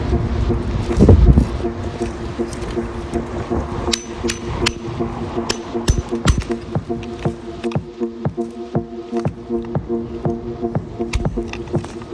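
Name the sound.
hammer and chisel breaking rock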